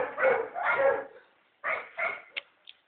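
A dog barks in short bursts, two pairs of woofs followed by a couple of quick yips, fairly close in a quiet space.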